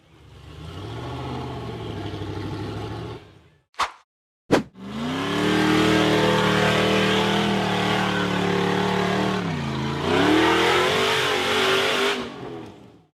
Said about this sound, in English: The buggy powered hard up a steep, rocky dirt slope